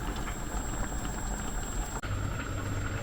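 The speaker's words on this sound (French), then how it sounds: "J'ai mis mes pâtes et je laisse cuire." Pasta boils in a pan with a steady, dense bubbling and gurgling that is close and continuous, with one brief dip partway through.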